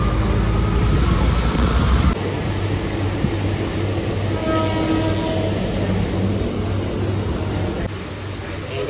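A train rumbles steadily along the tracks with a constant low roar and rattling, heard from inside a carriage.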